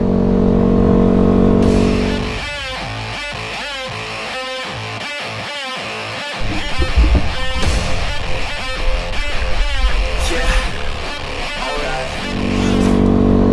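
Yamaha WR250R dual-sport motorcycle engine while riding, a steady loud drone that drops back briefly into a choppy, pulsing stretch of shifting revs and then swells again, with no talking over it.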